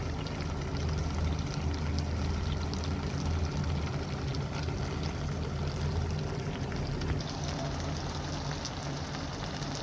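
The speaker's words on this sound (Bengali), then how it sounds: "এই তো আমার বেগুনের আলুটা ভাজা হয়ে আসছে।" Eggplant and potato pieces frying in hot oil in a pan, a steady dense sizzle and crackle that stays even and unbroken throughout.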